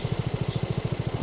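A small four-wheeled motorbike engine in Farming Simulator, idling in a steady rapid low putter with even pulses, close and alone.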